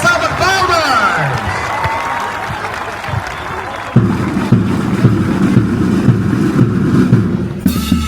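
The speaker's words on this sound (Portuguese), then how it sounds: "salva palmas!" Applause from a school audience at an anniversary celebration, a steady broadband clatter of clapping that swells after a few seconds and continues throughout, with voices over it at the start.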